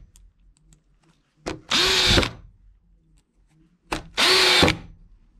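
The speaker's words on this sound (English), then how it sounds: "You don't have to go easy with the drill." A power drill drives drywall screws in two short bursts, each a click and brief rising whir followed by a loud steady spin of about a second, close and with no voices.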